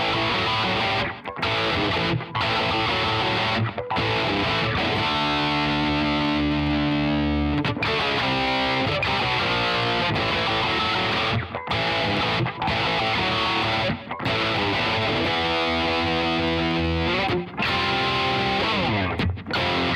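Distorted electric guitar playing a riff dry with no reverb, a loud, close, chunky riff with heavy palm muting and short stops between phrases, repeating throughout with no talking.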